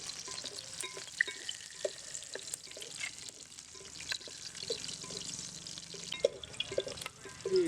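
Onions frying in a pan at an outdoor roadside village kitchen while mutton curry is prepared: steady crackling sizzle with scattered clinks and stirring scrapes, fairly close, no talk.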